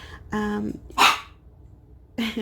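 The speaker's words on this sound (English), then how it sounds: "my dog keeps barking." A dog barks in a few short, separate bursts at moderate distance indoors, with quiet gaps between the barks and no talk over them.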